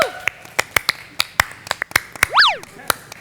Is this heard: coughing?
no